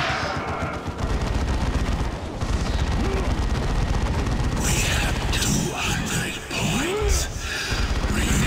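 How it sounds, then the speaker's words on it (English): Assault cannon barrage in the Dawn of War 2 strategy game, dense rapid gunfire and booming impacts rattling continuously under a busy battle soundscape, with a voice speaking over parts of it. "Been a while since I've seen an assault cannon barrage, and it was beautiful."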